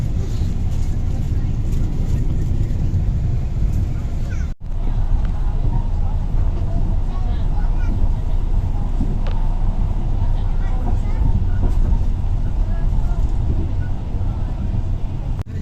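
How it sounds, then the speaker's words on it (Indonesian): A loud, continuous rumble of the Rajabasa economy premium passenger train rolling steadily after leaving Lembak station, with a brief dip partway through and faint voices underneath. "ini kereta api Raja Basa sudah meninggalkan stasiun Lembak"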